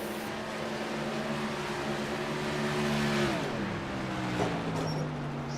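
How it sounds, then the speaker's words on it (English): Race truck engine at a short-track event dropping off as the driver lifts through the corners, a steady droning roar that dips and shifts pitch partway through, heard from a distance amid crowd and track ambience. "Maybe you can hear Davo cutting his truck off in the corners."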